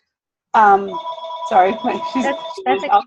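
A telephone rings with a steady electronic tone close by while a person talks over it.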